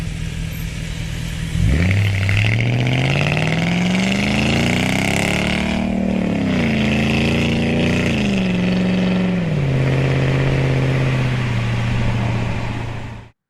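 A Jaguar XK8 XKR X100 engine starting, then revving up and holding a high, loud, droning pitch before easing back down to a steady idle, close by with no talking.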